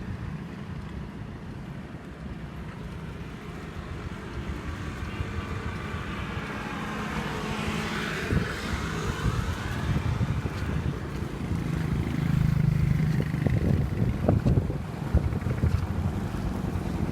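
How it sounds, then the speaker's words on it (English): Fishing boats heading out on the Kampot River, a low droning motor rumble that builds and then fades, heard from the riverbank under steady wind buffeting against the microphone. "You see the boats coming and going."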